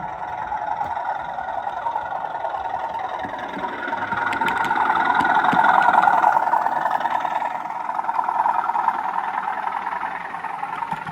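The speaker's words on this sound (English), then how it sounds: "So what I'll do is I'll run the train round now and you can watch it running." An OO gauge Revolution Trains 'Caroline' model train running round a layout, a steady whirring rumble with faint clicks that swells louder in the middle as it passes close, then eases off, with no talking.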